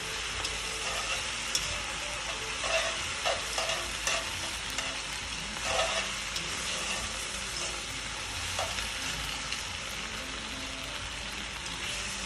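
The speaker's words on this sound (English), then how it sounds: "So you add the tomato paste, and you want to cook that a little bit" Tomato paste for chicken cacciatore sizzling in a pot while being stirred, a soft continuous crackle with scraping stir strokes at irregular moments.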